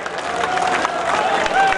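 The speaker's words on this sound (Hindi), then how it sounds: "एक बार जोरदार तालियां बजा के स्वागत करें माननीय मुख्यमंत्री जी का।" A large crowd applauds and cheers at a political rally welcoming a chief minister, with dense, loud clapping and shouting filling the air continuously.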